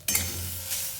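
Grated fresh coconut filling stirred in a pan with poppy seeds and cardamom powder, a short scraping stir with a soft sizzle and a light clink of utensil against the pan, close and alone.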